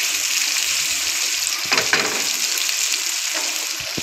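Finely chopped onion fries in oil toward golden for an egg masala, a dense even hiss with one brief scrape of stirring partway through.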